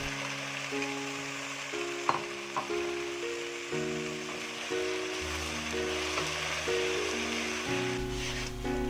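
Eggplant cooking with liquid seasoning in a pan, a soft steady sizzle with occasional stirring clinks, under gentle background music.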